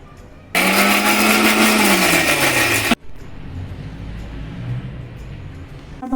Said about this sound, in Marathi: आता आपण लसूण आणि हिरव्या मिरच्या आणि थोडंसं जिरं टाकून मिक्सरमधून फिरवून घेणार आहोत